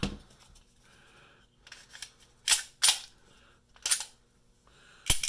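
Dry-fire function checks on a Taurus compact pistol, heard as a few sharp, isolated mechanical clicks and snaps, spaced apart and close by in a quiet room.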